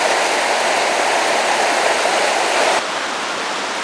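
Creek water flows steadily and loudly as a continuous rushing wash on a walk along the Nine Mile Creek corridor in Minnesota, close to the microphone, dropping slightly in level near the end with no voices.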